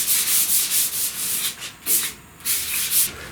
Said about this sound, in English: I'm not sanding hard, I'm not sanding deep. I'm just evening out all these sand scratches in little areas.